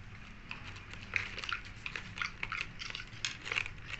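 Dogs eat popcorn, and quiet crisp crunches and chewing clicks sound close by. The bites come in an irregular run of snaps over a low, faint background.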